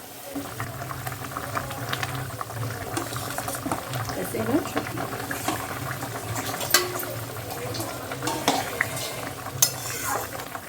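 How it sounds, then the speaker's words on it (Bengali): Katla fish curry broth simmering in a pot, a steady low bubbling boil with occasional stirring and utensil clinks, speech heard faintly over the cooking sounds. "হালকা এই ঝোলটা ফুটে গেছে কি সুন্দর করে"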